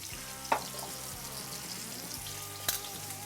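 A steak sizzles in olive oil and butter with a constant close hiss, broken by two sharp metallic clicks from the pan or utensil, and no one speaks.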